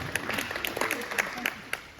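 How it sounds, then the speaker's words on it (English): An audience at a nutrition talk claps in a short burst of applause, with individual claps loud and close and a voice talking over it. "Give yourselves a round of applause."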